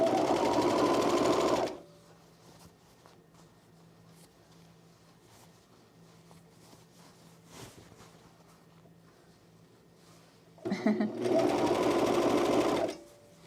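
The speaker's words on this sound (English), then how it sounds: "You're sewing an icon sweatshirt." A sewing machine stitches an icon sweatshirt in two loud bursts, one at the start and one near the end, with a quiet low hum and faint handling noises between them.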